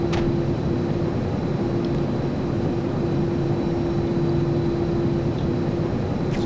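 An airplane engine in GTA San Andreas drones as a constant, loud hum with a steady tonal whine, heard from inside the cabin with no pauses.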